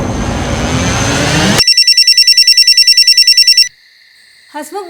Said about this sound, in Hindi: हसमुख भाई का फोन है